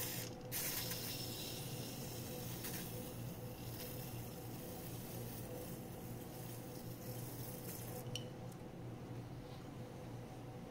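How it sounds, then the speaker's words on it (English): WD-40 sprayed onto MGN12 linear rails from a 3D printer, a sustained aerosol hiss running through the whole stretch with a few short bursts and clicks, close and moderately loud, no talking. "Let's start by spraying them with good old WD-40."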